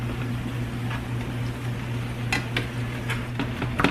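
Seasoned ground taco meat browning in a pan, a steady soft sizzle with a faint hum beneath and a few clicks and scrapes of a utensil stirring near the end.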